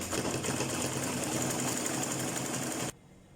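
A sewing machine runs in a fast, even, close-up motor chatter as fabric pieces for a ruffled V-shaped turban are stitched, stopping abruptly near the end.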